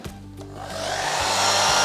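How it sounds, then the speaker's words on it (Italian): A hair dryer starts up and blows with a steady, rising whoosh, growing louder and holding a constant airy roar up close while drying paint on concrete vases. "Asciugo con il phon"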